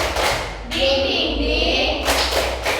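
A class of fifth-grade children claps a rhythmic spirit clap together while chanting in unison, the claps thudding in a short group pattern.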